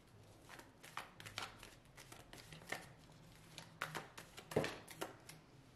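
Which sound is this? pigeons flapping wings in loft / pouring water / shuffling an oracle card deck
shuffling an oracle card deck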